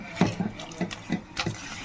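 Hands being wetted with water while making ragi sangati, producing a few short splashes and drips in quick uneven succession, close and fairly clear.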